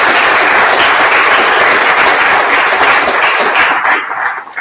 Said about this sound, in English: would you all join me in just a quick round of applause for Liz?